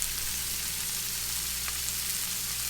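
Onions frying in a pan alongside brussels sprouts and bacon, giving a steady, even sizzle that holds close and constant throughout with no talk over it.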